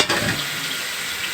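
Tomatoes and shredded cabbage sizzle steadily in a frying pan for chow mein while being stirred, a close, continuous crackling hiss with no talking.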